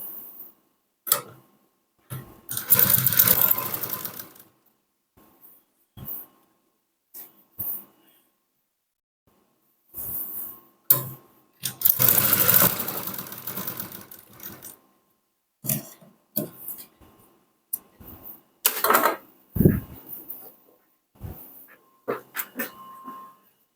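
A sewing machine stitches a folded fabric edge in several bursts of rapid whirring. Each run lasts a few seconds, with quiet pauses and small handling clicks between them.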